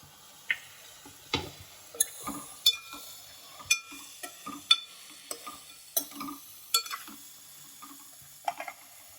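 Chicken gravy ingredients sautéing in a pan, a quiet, light sizzle under a series of sharp clicks and scrapes of a spoon stirring against the metal, irregular and close.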